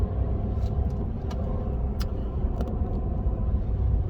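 A Ram 1500 pickup truck on a test drive, a steady low road rumble and tire hum from inside the cab, with a few faint clicks over the smooth drone.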